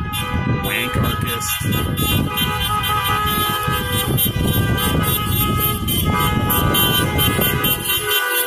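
Car horns blare continuously outside a prison, honking at guards during a Covid-19 protest, loud and dense with overlapping tones and traffic noise throughout.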